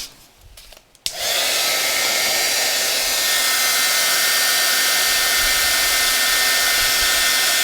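A heat tool is switched on with a click and blows a loud, steady, close whooshing hum as it melts embossing powder, continuing unbroken with no voices.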